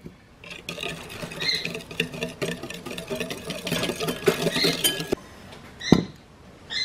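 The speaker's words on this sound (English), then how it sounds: "While drizzling just a teeny bit of this into your mixture, whisk it very quickly." Rapid whisking of a mixture for a coconut cream pie filling while a small stream of liquid is drizzled in, giving busy, clinking metal-on-bowl patter that runs steadily for several seconds, close and fairly loud, with no talking.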